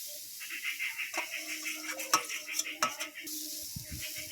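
Roasted coconut is stirred in a wok while making pumpkin puli filling, producing faint, soft scraping with a few light metallic clinks and a quiet, low sizzle.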